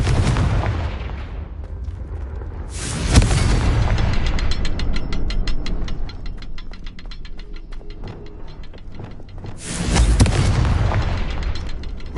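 Explosion spell effects in a wizard video game: a sharp blast near three seconds and another near ten, over steady game sounds with clicking mechanism-like rattles in between; no talk.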